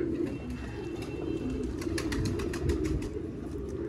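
Ferozpuri pigeons coo in a low, steady murmur, several birds overlapping close by, with faint fluttering in the background.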